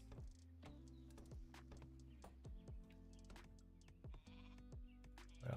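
Sheep in a strategy video game bleat in a string of short, separate calls, faint and spaced out, with soft clicking interface ticks between them.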